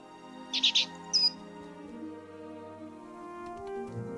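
A small game bird, Cheep Cheep from Book of Unwritten Tales 2, gives a few short bright chirps in quick succession, then falls quiet over soft background music.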